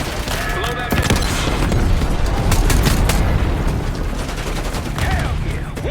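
A missile blows up in the Black Ops 6 video game amid a loud, dense battle din. Booms and rapid gunfire crackle keep on throughout.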